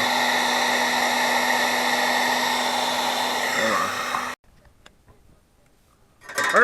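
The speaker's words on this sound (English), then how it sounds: "we're just going to blow the hot air over the heat shrink tube" A heat gun blows hot air over heat shrink tubing on a headlight socket wire, a steady loud whoosh with a constant whine that cuts off abruptly, followed by faint handling noises and a brief return of airflow.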